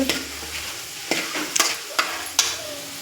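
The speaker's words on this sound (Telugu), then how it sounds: "ఈ పల్లీలు వేగాలండి పల్లీలు ఫ్రై అయ్యాయండి" Peanuts fry in oil with a steady soft sizzle, broken by several sharp scraping clicks of a spoon stirring the pan.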